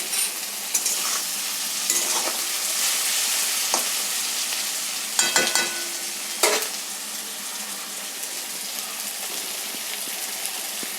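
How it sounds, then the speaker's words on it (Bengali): Lote fish, Bombay duck for crispy jhuri, fries in a pan with a dense, loud, continuous sizzle, broken by sharp clacks and scrapes as a spatula stirs it close by. "মাছটা দিয়ে এবার ভালো করে নাড়াতে হবে, নাড়াচাড়া করতে হবে।"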